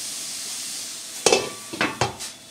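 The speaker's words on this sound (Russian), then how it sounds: "Там жарится на самом сильном огне и вроде пока ничего не пригорает" Food crackles and hisses steadily in a hot 28 cm Bollire frying pan over the highest heat, with a few louder clattering stirs toward the end.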